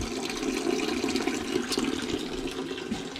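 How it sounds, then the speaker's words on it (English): Coolant draining from the radiator petcock of a Minneapolis Moline A4T tractor into a bucket, a steady close splashing trickle of liquid that runs continuously with no talk. "You see it's draining into my bucket here"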